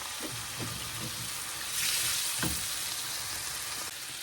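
Fish with turmeric and chili powder spices sizzles in a hot pan, a steady close frying hiss with a brief louder burst partway through and occasional soft stirring scrapes, no talking.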